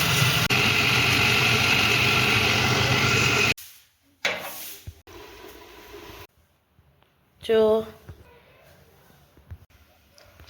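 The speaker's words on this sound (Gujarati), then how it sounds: "જો ગાઈસ વલાણું થઈ રહ્યું છે. આ છાશ બનશે અને પછી ઘી બી બનશે." Curd is churned to make buttermilk and ghee; a steady, loud mechanical churning drone runs for about three and a half seconds, then cuts out, leaving quieter knocks and a brief voice.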